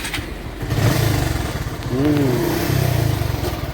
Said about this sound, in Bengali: এখন আমরা বাইকটা স্টার্ট দিলেই